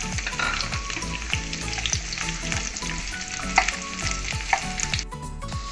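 Onions sizzle and fry steadily in a tablespoon of oil as the base for chicken fry in dum chicken biryani, a dense continuous crackle with occasional stirring scrapes and louder pops, no voices present.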